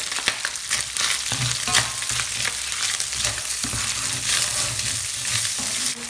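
Garlic frying in olive oil and bacon fat for a lasagne sauce crackles with a loud, steady sizzle close by, broken by occasional scraping strokes of a utensil in the pan.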